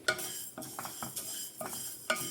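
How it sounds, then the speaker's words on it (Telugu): Split moong dal being stirred in a pan over a low flame for Navaratri katte pongali, with repeated scraping strokes roughly every half second over a soft, steady frying sizzle. "గ్యాస్ అన్నది లో ఫ్లేమ్లో పెట్టుకొని గోల్డెన్ బ్రౌన్ కలర్ వచ్చే వరకు ఈ పెసరపప్పును మనం ఫ్రై చేసుకోవాలి మధ్య మధ్యలో కలుపుకుంటూ ఉండాలి"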